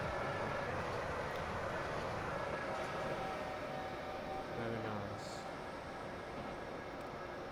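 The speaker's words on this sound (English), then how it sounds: "Watching the train go brrr." A train runs along the rails in the Transport Fever 2 video game: a steady, low rolling rumble with a faint higher tone, heard at even loudness throughout with some talking mixed in.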